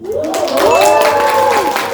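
An audience applauding and cheering at an announcement, with rising and falling whooping voices over a wash of clapping, loud and close for two seconds.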